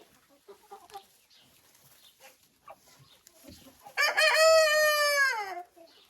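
One young cockerel lets out a single long, loud crow near the end, after quiet scattered clucks and soft farmyard noise.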